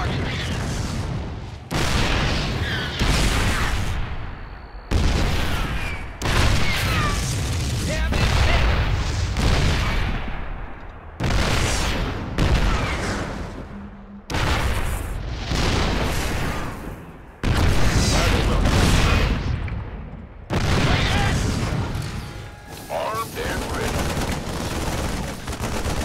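Siege tanks in StarCraft II shelling Protoss cannons, heavy booming cannon fire in repeated loud bursts separated by short gaps, with battle noise throughout.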